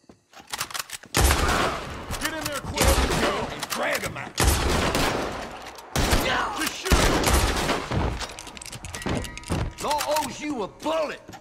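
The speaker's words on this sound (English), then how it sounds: "A bullet!" Gunfire in the video game RD Online: repeated loud shots and crackling volleys spread across the whole stretch, dense and close, with brief gaps between bursts.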